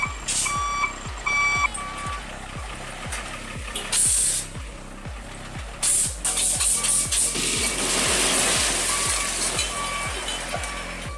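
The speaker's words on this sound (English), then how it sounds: "Backing a heavy truck toward a wooden house becomes a nerve-shredding moment" A heavy truck backs toward a wooden house, its reversing alarm beeping in a steady, evenly spaced rhythm over a low engine rumble. The beeps carry on throughout, with some louder mechanical noise partway through.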